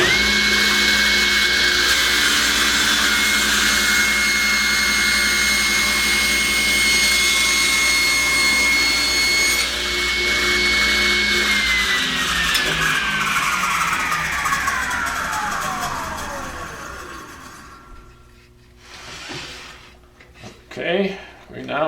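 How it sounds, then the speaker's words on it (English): A power saw cuts through wood for a rolling pin, its loud, steady motor whine running for about eleven seconds before spinning down in a falling pitch and leaving near silence with small knocks. "So I'll turn my saw on and we'll cut that off."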